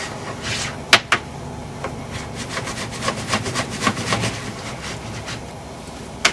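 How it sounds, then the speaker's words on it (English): Plastic scraper rubbing and scraping wax off a snowboard base in steady strokes, close and moderately loud, with a couple of sharper knocks from the board or tool. "Just start scraping all that wax off."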